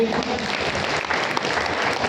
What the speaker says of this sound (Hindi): आप सभी इनकी सम्मान से ताली बजाइए